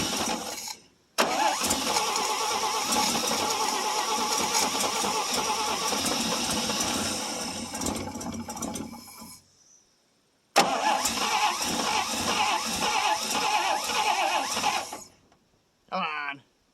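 A 1957 International S120 4x4 pickup that sat for four years cranks over in two long bursts separated by a sudden silence, then a brief third burst at the end.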